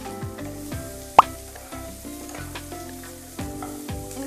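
Capsicum and onion drop into lightly heated oil in a kadai with a sharp plop, then fry with a steady close sizzle and stirring clatter, no talking.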